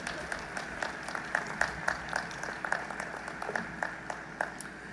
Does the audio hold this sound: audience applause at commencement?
yes